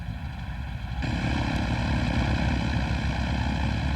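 A WWII-era propeller aircraft drones steadily overhead near Pearl Harbor, a loud continuous engine hum that swells slightly after the first second and holds without pause.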